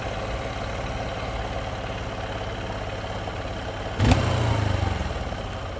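A hot Honda XR150L motorcycle engine idles steadily and close, with a sharp blip near the four-second mark followed by a slightly louder, rougher idle that gradually settles.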